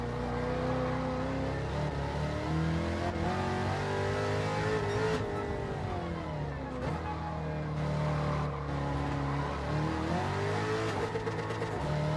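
Race car engine in a racing simulator revving hard continuously, rising and dipping in pitch as gears shift, with a sticky shifter dropping into the wrong gear; loud and steady throughout with no talking.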